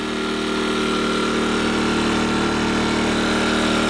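An Earthquake IG800W 800-watt inverter generator runs with its econ switch on, a steady, close engine drone with a constant hum, heard from two or three feet away with no talk.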